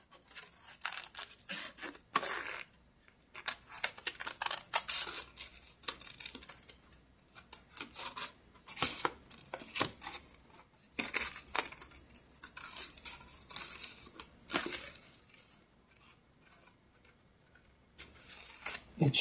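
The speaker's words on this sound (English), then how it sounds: "cut the corners, and then cut the image." Scissors snip through paper, cutting around the corners and edges of a printed image for a tunnel book craft: a busy run of close, crisp snips and paper rustles in uneven bursts, with no talking.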